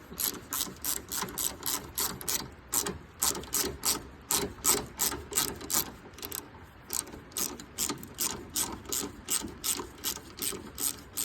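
A hand ratchet loosens the AC condenser mounting bolt on a 1999-2006 Chevy Silverado 1500, giving a close run of rapid clicking bursts in a regular back-and-forth rhythm with a brief pause midway.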